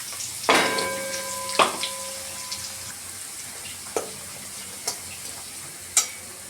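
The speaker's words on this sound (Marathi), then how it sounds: "आता आलं लसूण खोबऱ्याची पेस्ट टाकून घेऊ" Ginger, garlic and coconut paste hitting hot oil, with a low sizzle broken by several sharp clanks of a spoon on the pan at uneven intervals.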